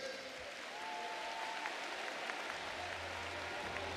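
Applause rises from a congress audience approving by acclamation, a faint, distant wash of clapping lasting a few seconds with a low hum underneath.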